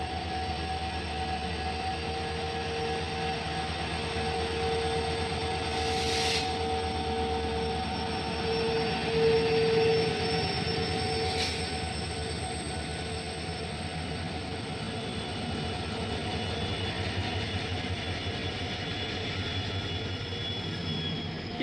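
The Poorna Express, hauled by four locomotives near Dudhsagar Falls, gives a steady, droning engine rumble that holds for over twenty seconds with little change, heard from on board with no talk.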